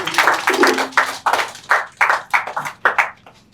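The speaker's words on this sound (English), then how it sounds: "Another round of applause for him, please." Individual hands clapping in distinct separate bursts at a horticultural expo in Accra, a few sharp claps then pauses, close and fairly loud with no talk over them.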